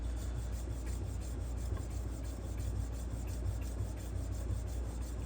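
A knife blade strokes across a 3000 grit sharpening stone in a steady, soft rubbing rasp, continuous and fairly quiet with faint repeated scraping passes and no voices.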